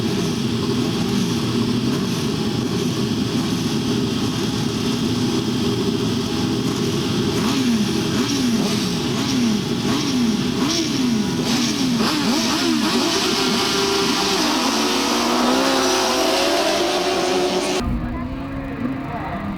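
Grasstrack racing motorcycles pull away into the first bend, a loud sustained engine roar with repeated rising and falling revs as riders change gear, and a commentator's voice runs over it until the sound cuts off near the end.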